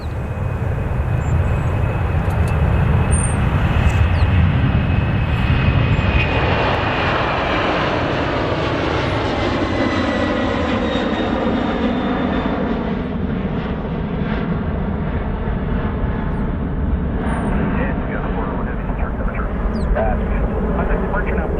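An airplane lands on runway 35 left at Calgary airport, its engine roar loud and steady throughout, a broad rumble with a slowly shifting whine, heard from nearby without a break.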